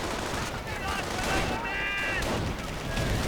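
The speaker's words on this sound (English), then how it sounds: "More artillery ranging in, not quite hitting the bunker though." Artillery and gunfire in a real-time strategy game, bursts of rattling shots and distant booms mixed with whistling projectiles, with a voice talking over the battle.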